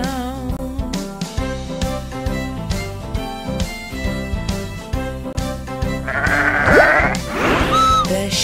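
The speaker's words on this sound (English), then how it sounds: "Sheep on the bus go ba ba ba" Bleating sheep sounds rise over a bouncy, rhythmic children's nursery song about the wheels on the bus, with the bleats near the end over the steady beat.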